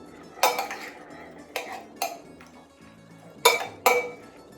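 A utensil clinks and scrapes against a dish while roasted beets and greens are tossed together, a handful of sharp, close metallic knocks spaced irregularly.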